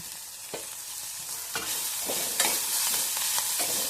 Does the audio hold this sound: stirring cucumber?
yes